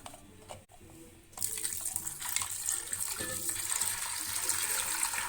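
A large jug of water pours into a cooking pot of chana dal, a bright gushing splash that begins suddenly after a brief faint start and keeps flowing steadily and close.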